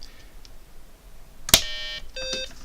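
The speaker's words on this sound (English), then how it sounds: "So we're listening for those 2 beeps." BBC Micro Model B computer powering on, giving a sharp click followed by two short electronic startup beeps, the second higher and briefer, in a quiet room with faint background hiss.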